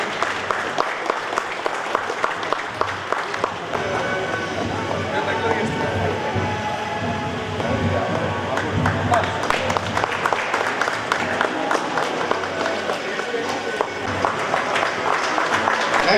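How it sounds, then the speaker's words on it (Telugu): An audience applauds bus drivers at a national road safety festival at a bus depot in Nizamabad. The clapping is loud and sustained and continues throughout, with talk over it. "చప్పట్లు పట్టాలండి. అందరూ అభినందించాలి."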